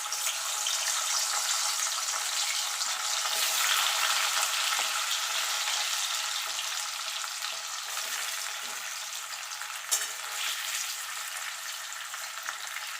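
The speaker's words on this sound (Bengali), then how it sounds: "এবার আলুগুলোকে আমি লাল লাল করে ভেজে নেব" Potatoes fry in hot oil, a steady broad sizzle that holds for the whole stretch, close and fairly loud, with a brief clink near the end and no talking.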